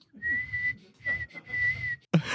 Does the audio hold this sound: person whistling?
yes